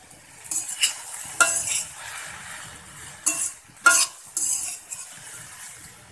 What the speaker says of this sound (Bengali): এটাকে আমি ভালো করে মিশিয়ে আবারও মিডিয়াম আঁচে ভেজে নেব প্রায় 5 মিনিটের মতো